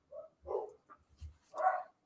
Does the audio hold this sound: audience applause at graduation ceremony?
no